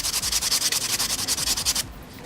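Rapid rhythmic rasping of a nail file working gel polish off a fingernail, about a dozen quick close strokes that stop abruptly near the end, no talking.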